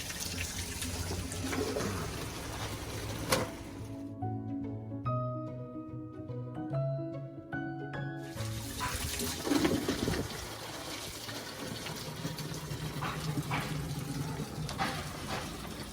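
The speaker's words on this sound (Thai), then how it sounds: "น้ำแรงดีมาก" A strong, steady gush of clean mountain water pouring from a pipe, a loud, constant splashing rush with a brief quieter stretch of dripping and trickling in the middle.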